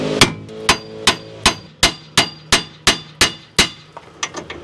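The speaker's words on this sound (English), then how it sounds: "Usually a few hits right here on the end will break the taper" Hammer blows on a tie rod end to break its taper on a Toyota RAV4, about ten sharp metallic strikes at a steady rhythm, close and loud, then a few lighter taps, no talking.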